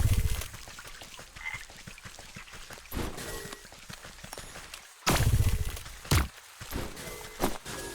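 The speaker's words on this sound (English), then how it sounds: "There are lots of froggies here." Frogs croak in the video game Wytchwood, a few short close calls standing out over quiet ambient game sound, with louder bursts near the middle and end.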